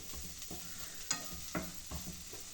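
Oats upma being sautéed in a pan with a little oil: a steady low sizzle with repeated scraping stir strokes every half second or so, close and fairly quiet, with no talking.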